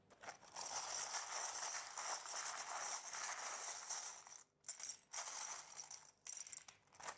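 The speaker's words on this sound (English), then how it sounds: "Okay, I will shuffle your letters." Tarot cards being shuffled by hand, bursts of dense papery riffling and flicking, close and crisp, with brief pauses between runs near the end.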